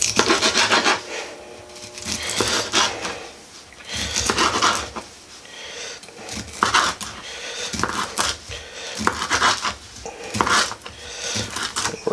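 A knife trims smoked sausage on a cutting surface, giving repeated close rubbing and rasping strokes in an uneven rhythm, with no voices.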